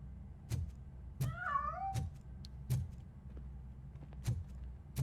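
A cat meows in the Robocop video game, one clear drawn-out meow near the start over a low steady game background with several sharp clicks or thumps spaced throughout.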